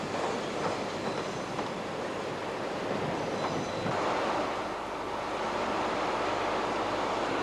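Mainline train on the Midland Main Line, a steady rushing roar of wheels and wind passing close, with faint rhythmic rail clatter and no voices.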